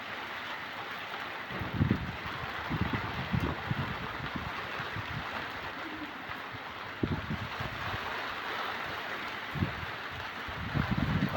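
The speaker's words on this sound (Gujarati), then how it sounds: "વાવાઝોડા સાથે વરસાદ થરાની અંદર ભયંકર રાત્રિના 12:04 શરૂ થયેલ છે." A nighttime windstorm with rain in Thara, Banaskantha, heard as a faint, steady wash of rain and wind noise with irregular low gusty rumbles throughout.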